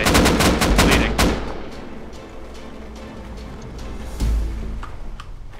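Rifle gunfire in the survival video game Rust, a rapid burst of loud, close shots in the first second or so, then scattered quieter shots and one more sharp crack near the end.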